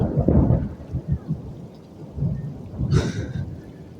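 Deep rolling thunder from a lightning strike during a New Year's Eve thunderstorm in Bristol, Connecticut, rumbling in several loud bursts over steady rain.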